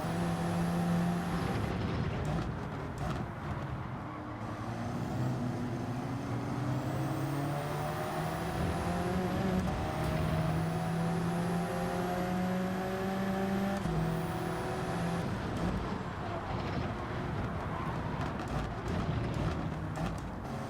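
Race car engines in Gran Turismo 7, with several cars roaring together in a dense, steady drone and rising and falling revs that keep climbing through the gears.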